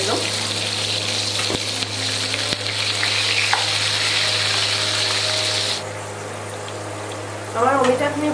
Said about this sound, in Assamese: আৰু ইয়াৰ পিছত আমি আলুখিনি ঠিক এনেধৰণে ভাজি লওঁ।